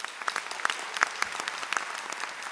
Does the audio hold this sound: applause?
yes